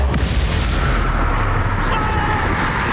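Confringo blasting spell explosions from Hogwarts Legacy on Nintendo Switch, a loud, dense, continuous rumble of booming blasts that fills the whole moment with little pause.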